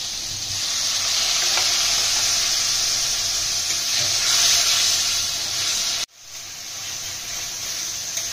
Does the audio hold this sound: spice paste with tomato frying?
yes